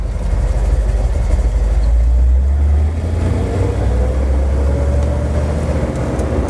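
A 1970 Ford Bronco with a rebuilt transmission pulls away in second gear. A loud, close, low engine drone rises and shifts pitch as the truck drives off, and no one speaks.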